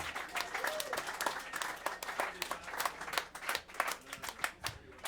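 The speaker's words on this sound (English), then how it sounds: "Clap your hands." An audience at a RoastMasters rap battle event claps in a quick, uneven patter of individual hands, fairly faint and distant, just before the final battle.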